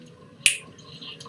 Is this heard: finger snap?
yes